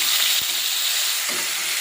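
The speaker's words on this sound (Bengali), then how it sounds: "কড়াইতে তেল দিয়ে দিয়েছি তেলটা গরম হয়েছে দিয়ে দেবো পাঁচ ফোড়ন হালকা অল্প করে একটু হলুদ দিয়ে দেবো নাহলে আদাটা ঠিক হবে দিয়ে দেবো আদা" Ginger sizzles in hot oil in a kadai with panch phoron and a little turmeric, a steady bright hiss throughout with a soft clack near the start and another stir later, no talking.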